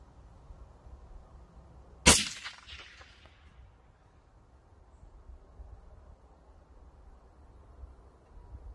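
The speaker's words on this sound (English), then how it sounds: "We'll go for one more shot." A single sharp rifle shot cracks out from a rifle fitted with a Pulsar Talion XQ38 thermal scope, loud and close, with a short decaying tail over quiet outdoor background.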